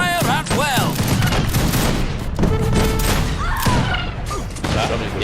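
Musket volleys crack from ranks of soldiers in Age of Empires 3, dense overlapping bursts of gunfire rolling through the whole stretch, loud and close, with shouted battle commands and game voices mixed in.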